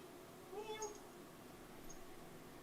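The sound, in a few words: pet cat at the door trying to come in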